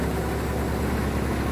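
A New Holland 3630 tractor engine runs steadily while powering a thresher cutter, a loud continuous close diesel drone with even low rumble throughout.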